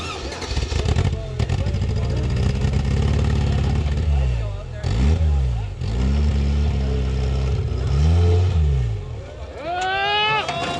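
An off-road vehicle's engine revs hard and repeatedly, rising and falling in loud surging pulls with a strained whine near the end, while people shout excitedly over it.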